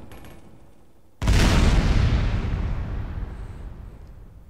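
A single loud grenade explosion in Team Fortress 2, erupting suddenly after a quiet stretch with a heavy low boom that slowly decays into a long rumbling tail.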